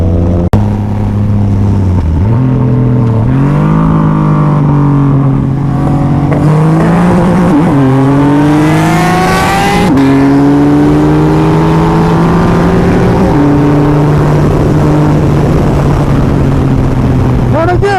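A Kawasaki H2 motorcycle accelerates hard under full throttle, a loud close engine roar climbing steeply in pitch, dropping at each gear change, then climbing again before settling into a steady high drone.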